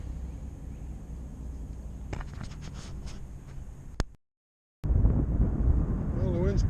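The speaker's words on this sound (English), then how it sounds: "the wind's picking up" Wind buffets a microphone at the beach in a steady rumbling gust, close and fairly loud, cutting out briefly before returning stronger.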